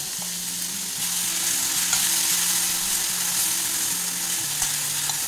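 Ground paste of two medium onions hits hot spiced oil, giving a continuous close hiss and sizzle with light stirring over a faint low repeating hum, no voices.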